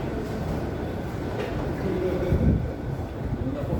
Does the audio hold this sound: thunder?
no